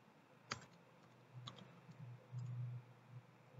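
Quiet keystrokes on a computer keyboard come in short, uneven bursts as a command is typed. Isolated clicks are followed by a denser run of taps near the end.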